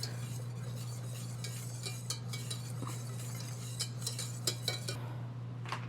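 A bread pudding mixture is stirred in a pot on the stove, giving soft scraping and light clinks of a utensil against the pot over a low steady hum, quiet and close.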